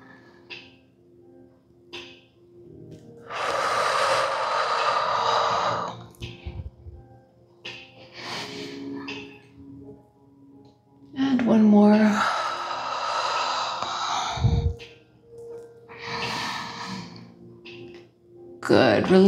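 Deep yoga breaths during a core and back strengthening routine, long audible inhales and exhales in several slow, close rounds with breathy noise between pauses.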